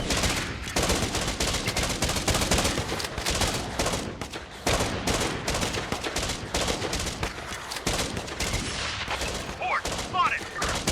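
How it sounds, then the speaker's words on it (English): Dense gunfire from the zombie survival strategy game Infection Free Zone, rapid overlapping shots and bursts crackling continuously at loud volume throughout. "It's okay, you're not the only one shooting."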